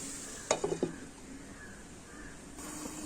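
Chinna mutta roast with onion, tomato and garam masala cooks in a covered pan, giving a quiet steady simmering hiss after a short cluster of clattering knocks near the start.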